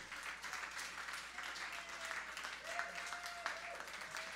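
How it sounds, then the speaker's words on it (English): Studio audience applause at the close of a livestream interview, a faint, steady patter of clapping lasting several seconds with a voice briefly audible underneath. "Give Max Blumenthal a big round of applause"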